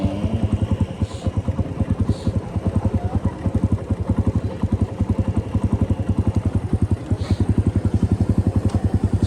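Motorcycle engine running steadily on a dirt trail, a loud close rhythmic putter throughout with no talk.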